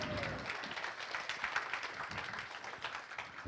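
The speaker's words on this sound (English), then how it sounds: "how about a big round of applause for yourselves" A gala comedy audience claps for itself, a soft, fairly distant patter of many hands that stays even and fills the short moment.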